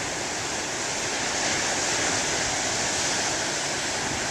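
Moderate ocean waves break and wash continuously along the shore, a broad steady roar of surf with a slight swell in loudness midway and no voices.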